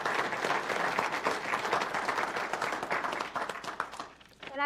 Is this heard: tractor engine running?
no